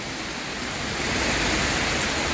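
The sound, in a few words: water flowing from a switched-on water flow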